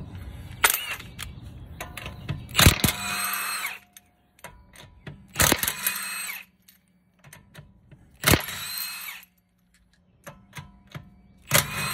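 Tools work on the rear wheel of a 2012 Honda Accord to remove the tire, giving repeated short bursts of whirring and sharp clanks separated by quieter pauses.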